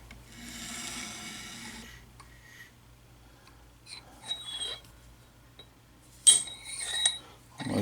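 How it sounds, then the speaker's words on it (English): A height gauge scribes a line on steel T-nut stock for a Sheldon lathe, first as a steady scraping stroke, then as a few light metallic clinks and taps in a quiet shop. "So I've set my height gauge. I'm going to scribe"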